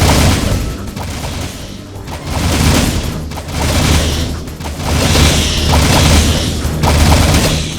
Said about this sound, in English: I'm able to fire wildly and just can pretty much destroy everything that stands in my way.